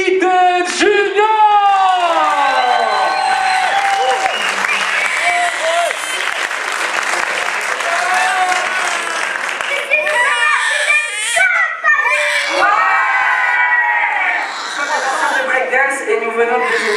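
Thunderous crowd applause and cheering for a hip hop dance group at a 2014 dance contest, loud and sustained over about seventeen seconds, with shouts, whistles and an announcer's voice mixed in.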